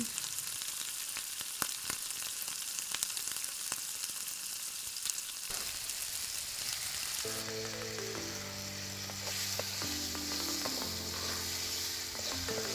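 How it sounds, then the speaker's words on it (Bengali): Onion and garlic paste frying with salt and turmeric, a continuous crackling sizzle with scattered pops, joined partway through by soft instrumental music underneath. "পেঁয়াজ বাটা ও রসুন বাটা দিয়ে কষিয়ে নিচ্ছি"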